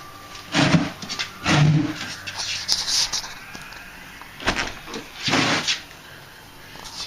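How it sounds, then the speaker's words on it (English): The door of a 1960 Triumph TR3A under restoration is worked open with a few soft clunks and sliding scrapes, close by and fairly quiet, with someone speaking at times between them. "Let's see if I can get this door open."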